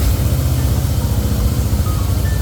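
A 2008 Harley-Davidson Fatboy motorcycle engine, in neutral, running with a steady, loud low rumble close by, with no voices present.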